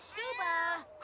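A cat in The Sims 4 gives one clear, drawn-out meow that rises and falls, followed by a short second call, close and fairly loud.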